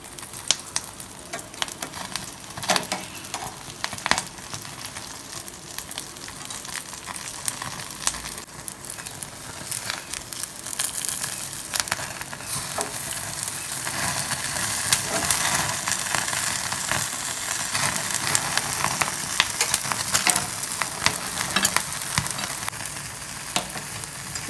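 Karimeen fish grilling in oil on a banana leaf, a continuous close sizzle and crackle that grows steadily louder and denser over time, with no talking.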